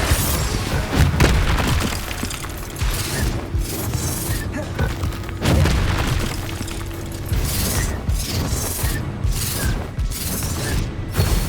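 Explosive spell blasts from the video game Hogwarts Legacy, set in a haunted Hogsmeade, come as dense, loud booms and crackling bursts that recur throughout with barely a pause, over a busy mechanical game soundtrack.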